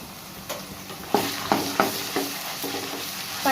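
Ginger garlic paste frying in a pan, a steady sizzling hiss punctuated by several sharp spoon scrapes and stirs, close and fairly loud with no talking.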